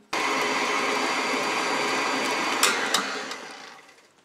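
An electric mixer beats cream cheese frosting in a bowl, a steady loud whirring drone that holds evenly, then briefly clatters and falters near the end as it is stopped.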